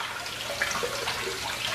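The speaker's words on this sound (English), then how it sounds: "I peel the shell under running water, and the running water serves as a lubricant" Tap water runs steadily over boiled eggs at a sink as the shells are peeled, a continuous close hiss of flowing water with no pauses.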